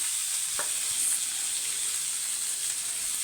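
Cluster beans sautéing in a pan for sambar give a steady, close sizzle and crackle of frying that runs unbroken throughout, with a brief stir clink near the start.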